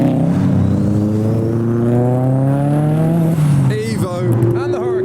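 Modified Subaru and Mitsubishi Evo cars rev hard at a car show, a loud close engine drone climbing in pitch over several seconds, then sharp rising blips near the end, with crowd voices mixed in.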